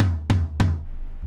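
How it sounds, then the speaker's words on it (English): Two quick hits on a processed tom drum, compressed and EQ'd to sound tight, clean and slightly scooped, each with a short punchy decay, close and alone. "So instead of the tom sounding like this, it sounds like this."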